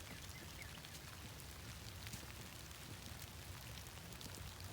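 Light spring rain falls steadily in wetlands, a soft, even patter of drops on surfaces with scattered sharper taps, quiet and continuous throughout.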